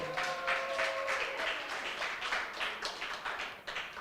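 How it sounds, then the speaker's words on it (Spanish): A church congregation applauds, a dense, steady wash of many hands clapping heard at a moderate distance, with a faint sustained tone underneath early on. "Dale un fuerte aplauso al Señor"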